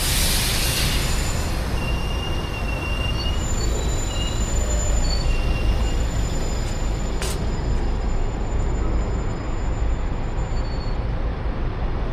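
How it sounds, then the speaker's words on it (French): Train noise at Rossio railway station in Lisbon, the line running to Sintra: a steady, loud rumble of rail cars with faint high squealing tones above it, continuous throughout and with no speech. "Voici devant la gare ferroviaire du Rocio, qui relie la ville de Lisbonne à celle de Sintra"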